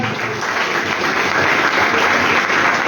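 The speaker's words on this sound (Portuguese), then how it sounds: "Palmas bem alegres para Jesus" A Pentecostal church congregation in Mogi Guaçu applauds for Jesus, a loud, dense and continuous wash of many clapping hands with no pause.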